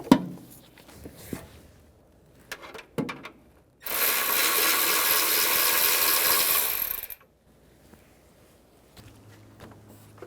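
A power driver with an E10 socket backing out heat shield bolts on a 2012–2020 Chevrolet Sonic, a single loud steady whir lasting about three seconds, with clinks and taps of tools before and after.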